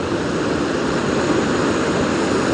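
A camping stove burns at full blast, giving a loud, steady, close roar like a jet engine that holds unchanged throughout, with no voices.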